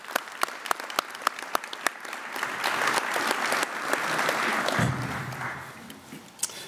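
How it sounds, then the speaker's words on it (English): Audience at a district community relations award ceremony applauding award recipients, starting with a few sharp separate claps that swell into a fuller round of clapping before thinning out, fairly quiet overall. "one more round of applause for all of our award recipients"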